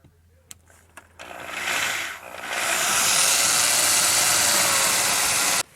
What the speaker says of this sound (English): I'm drilling some holes